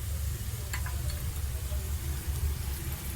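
Curry leaves and chili powder sizzle and crackle steadily in hot oil for a Kerala-style fish dish, a dense, continuous frying hiss with no talking.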